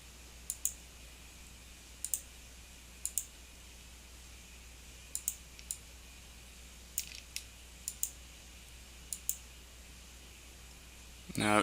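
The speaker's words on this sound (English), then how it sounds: "So I'm just going to type something real quick here." Keys clack on a computer keyboard in short, sparse bursts of one to three clicks separated by pauses, close and crisp over a low steady hum.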